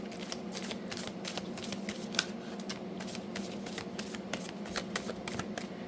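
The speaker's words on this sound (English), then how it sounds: "I'm going to give it one more shuffle." Tarot cards are shuffled close up in a continuous, crisp riffle of rapid flicks, with no talking.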